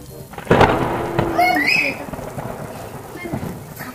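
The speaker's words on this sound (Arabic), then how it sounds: "خليني نسمع الصوت سمعي صوت الشتا سمعي صوت الشتا" Rain falls outside with a rumble of thunder, a steady wash of noise broken by one louder roll, while voices talk over it.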